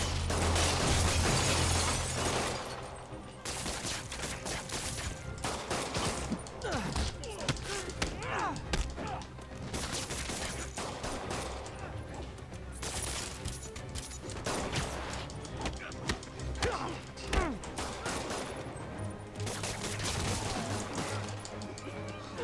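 Thugs shooting at Spider-Man in Marvel's Spider-Man game: steady, busy stream of gunshots, thuds and crashing combat impacts over a continuous game soundtrack, no talking.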